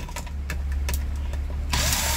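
Screws come out of the housing of a mini food processor, with a steady low hum, a scatter of small sharp clicks and a louder rush of noise near the end.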